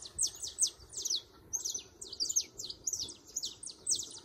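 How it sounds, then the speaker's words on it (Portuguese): Birds chirp and tweet at sunrise in quick repeated bursts of high, bright calls, with no talking. "Som dos pássaros."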